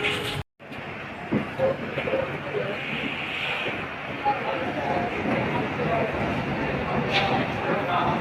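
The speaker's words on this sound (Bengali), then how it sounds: "ট্রেনটি চলে এসছে ছেড়ে দেবে চলো ট্রেনে উঠে পড়ে থাক" A run-down local train rumbles and rattles as it pulls away from Poradaha station, Bangladesh, a steady loud roar with wind buffeting and faint voices underneath.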